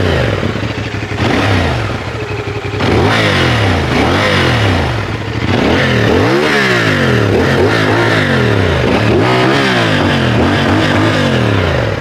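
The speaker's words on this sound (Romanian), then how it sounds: "mai tare se aude motorul decât toba." A new 2024 CFMOTO 450SR motorcycle on its stock, original exhaust revs repeatedly up close, each throttle blip rising and dropping over a steady idle, with engine mechanical clatter prominent.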